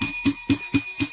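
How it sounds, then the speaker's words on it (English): A Waffle House order bell rings in five quick, evenly spaced bright strikes, close and clear over a faint diner hum. "Let's ring the bell for that."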